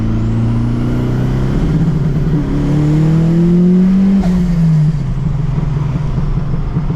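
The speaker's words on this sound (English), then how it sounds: "Just do a little downshift here. Pop, pop, pop. We've got rolling anti-lag." A built Nissan S15 engine revs loudly up and down through a downshift, pitch climbing then falling, with a faint crackle near the end as rolling anti-lag kicks in, close-up and without talk.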